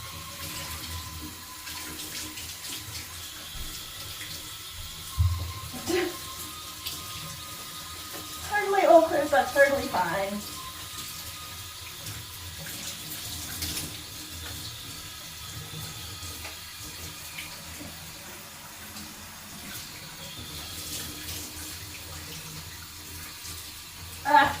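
Warm tap water runs and splashes while bleached hair is rinsed in a bathroom, a steady hiss with a louder gush midway, heard beneath someone talking.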